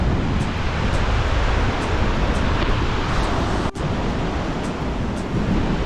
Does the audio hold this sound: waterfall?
yes